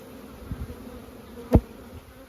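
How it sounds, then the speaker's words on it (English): Honey bees buzzing as they are shaken off hive frames, a steady faint hum with a sharp thud of the frame being shaken midway. "I'm going to shake the bees off"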